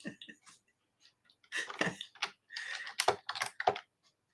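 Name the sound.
clicking and typing on a computer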